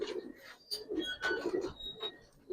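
A pair of Giribaz pigeons, a cock and a hen, coo repeatedly up close in throaty rolling phrases, with faint higher chirps mixed in and no one speaking.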